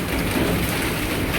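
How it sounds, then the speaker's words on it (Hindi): Heavy hail pours down in a dense, steady clatter, a continuous loud wash of impacts like a hard downpour, filling the whole stretch with no voices. "ओलों की इतनी तेज़ आवाज़ सुनकर है ना मैं ऊपर आ गई थी"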